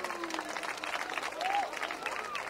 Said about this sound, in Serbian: Pozdravite velikim aplauzom